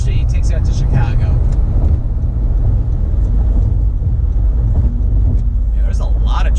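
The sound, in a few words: car driving in highway traffic on US 23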